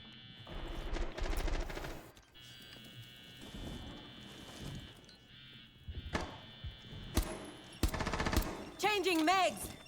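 Gunfire trade in Modern Warfare: bursts of automatic rifle fire and single shots that come and go in irregular volleys, with loud clusters near the end, mixed with game effects and some talk.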